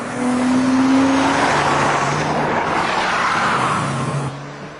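Porsche Boxster pushed hard with traction control off, its engine roaring loud and steady near the listener, pitch falling as it shifts and strains, with a hint of tyre noise through the run.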